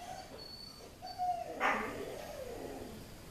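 A dog gives a couple of short barks and a whiny yelp, fairly close, over faint background noise.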